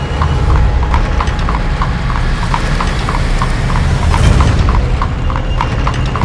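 Several horses carry riders through the night toward a cave in a black mountain, their hooves clip-clopping in a steady rhythmic gallop, loud and close over a deep rumbling backdrop.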